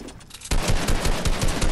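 Rapid gunfire from a video game shooter, aimed at a wall, starts abruptly after a quiet moment and continues as a steady, loud burst of closely spaced shots.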